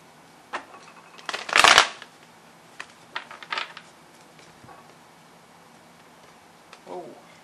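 Close-up card shuffling: one loud riffling burst, followed by several shorter flicks and taps as cards are handled and laid down.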